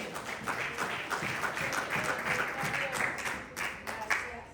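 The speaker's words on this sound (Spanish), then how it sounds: "Dele el aplauso al Señor." A church congregation claps together in praise to the Lord during a sermon, a steady mass of many hands at moderate distance with faint voices mixed in underneath.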